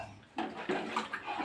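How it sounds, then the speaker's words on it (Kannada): Water is poured from a vessel into a cooking pot for rice, making a close, splashing pour of about a second with a couple of distinct surges. "ಅದರಲ್ಲಿ 2 ಗಿಂಡಿಯಷ್ಟು ನೀರು ಹಾಕಿಬಿಡ್ತಾನೆ"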